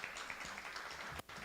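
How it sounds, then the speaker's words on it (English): Audience applause for Tanya Singh at a music meditation festival in Atlanta, a quiet, steady wash of clapping at a distance that drops off briefly near the end. "Let's give a big round of applause to Tanya Singh."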